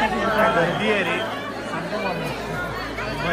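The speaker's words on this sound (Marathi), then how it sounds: "भयानक गर्दी आहे, भयानक" Dense chatter from a packed crowd of pilgrims at Bhimashankar temple on a Sunday morning, many overlapping voices forming a close, continuous babble with no pauses.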